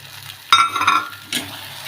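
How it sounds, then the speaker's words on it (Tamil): A spoon scrapes and stirs thick kali dough in a pan, worked until free of lumps. Two close, rough stirring strokes sound, the first longer, over a quiet background. "இப்போது மாவு இல்லாமல், நல்லா கட்டி இல்லாமல், மாவு இல்லாமல் நல்லா கிளறிடணும்"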